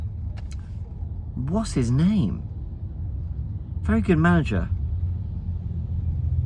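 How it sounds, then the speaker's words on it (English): Low, steady rumble of a car ride heard from the back seat, a constant engine and road drone running the whole time beneath two short bursts of someone talking. "you shouldn't record in the back of a car when you're rushing places"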